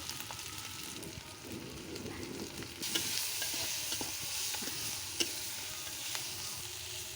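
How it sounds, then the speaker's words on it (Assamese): Onions frying in a little oil for a pork curry give a soft, steady sizzle that swells louder partway through, with scattered clicks and scrapes of stirring, heard close with no voices. "পিঁয়াজখিনি আকৌ ৰঙা চোৱালৈকে ভাজি ল'ম"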